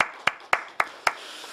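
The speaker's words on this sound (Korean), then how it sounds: "아버지 하나님께 감사와 영광의 박수를 올려드리겠습니다." Congregation at a Korean healing service clapping in unison, five crisp, evenly spaced claps in a steady rhythm, fairly close and sharp against a quiet room.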